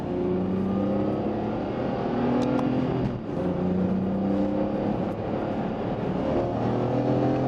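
A BMW E46 M3 third-generation engine revs hard under acceleration from inside the car, a loud, steady metallic drone climbing in pitch through the gears with no pauses.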